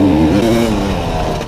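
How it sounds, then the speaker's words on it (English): A dirt motorcycle races in a harescramble at Dream Riders, its engine held hard on the rev limiter in a loud, close, steady high-rev drone. "there goes Grant Marriott on the rev limiter"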